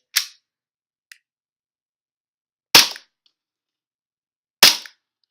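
Three sharp pops from a WE Glock 17 gas airsoft pistol fitted with a plastic magazine, each a crisp close report with a short gassy tail, spaced about two seconds apart, plus a faint click between the first two.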